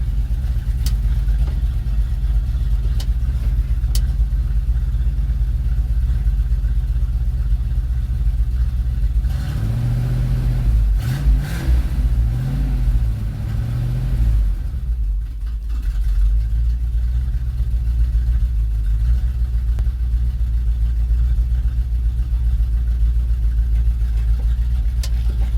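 A 1977 Chevy C10 pickup engine idles steadily while warming up, a continuous low rumble with a brief shift in tone partway through, close and alone.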